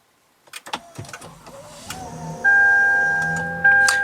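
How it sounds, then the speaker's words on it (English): Power seat and steering wheel of a 2013 Lexus RX350 F Sport moving back to a memory position: a few clicks and taps, then a steady electric motor whine that rises in pitch and continues to the end, close inside the cabin. "the seat itself does move back to its last presetting, and the steering wheel will also adjust to its last presetting also"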